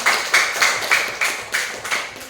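Group clapping in a classroom after a student presentation, loud and close, with roughly rhythmic claps repeating steadily throughout, no voices.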